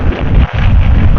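Warm night wind buffets the microphone of a motorcycle being ridden, a loud, close, continuous rumble with a brief dip midway.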